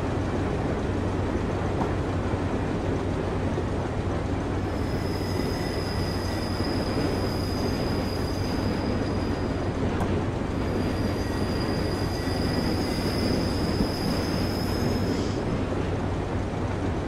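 A BR294 diesel locomotive in Train Simulator 2016 pulls slowly out of a yard on the Hamburg–Hanover route, a steady low engine rumble under rolling wheel noise with faint high wheel squeal, no talk.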